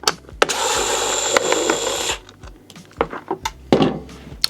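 A power tool whirs in one sustained burst lasting under two seconds while unscrewing the long foot pad screws on a Onewheel XR electric board, followed by scattered clicks and handling knocks.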